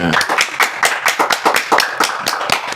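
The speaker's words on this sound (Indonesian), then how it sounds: "Tepuk tangan dong," A burst of group clapping, many hands beating quickly and unevenly, with a voice briefly audible over the applause.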